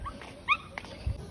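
A dog gives faint high whimpers and a short yip within a brief quiet moment outdoors near a river, distant and soft.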